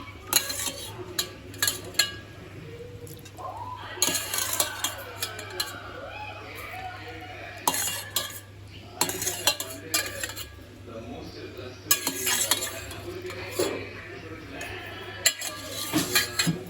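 Mutton pieces are stirred and mixed in a metal pot for biryani, with repeated ladle scrapes and clanks against the pot coming in bursts over a low steady hum, close and fairly clear.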